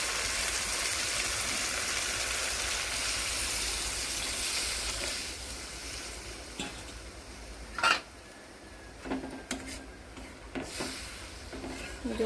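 Spices frying in a pan for a singhi fish curry give off a loud, steady sizzle, then water goes in and the hiss drops to a quieter bubbling, with a few clinks of utensils against the pan.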